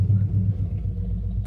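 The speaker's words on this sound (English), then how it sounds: "Motorcycle going by" A motorcycle rumbles past nearby at a train station parking lot, a steady low engine drone filling the short moment without any voices.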